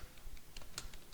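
Typing a sudo command on a computer keyboard while setting up a mail server on Ubuntu, with faint, irregular key clicks over a quiet background hiss.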